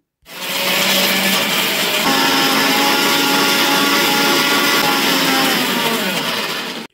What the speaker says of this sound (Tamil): இப்போ ஒரு மிக்ஸி ஜாரில் போட்டு எடுத்துக்கலாம்.